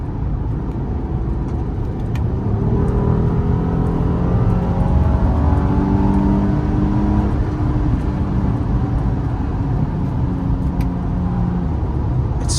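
A 2012 Acura MDX SH-AWD pulling hard on a test drive, with a steady engine and road roar that builds smoothly and holds loud and close from inside the cabin, with no talking.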